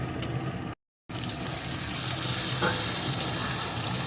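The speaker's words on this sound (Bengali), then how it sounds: "এখন দিয়ে দেবো একটা টমেটো কুচি এটাকেও এর সাথে একটু ভালো করে ভেজে নেব" Chopped tomato frying with the base for kadai chicken, a steady close sizzle broken by a second of silence near the start, then continuing evenly without voices.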